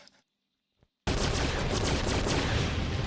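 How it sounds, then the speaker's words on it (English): Starship forward guns and batteries open fire in a Babylon 5 space battle: after a near-silent pause, a sudden loud, dense barrage of rapid gunfire and explosions runs continuously to the end. "All batteries, all forward guns. Fire at will."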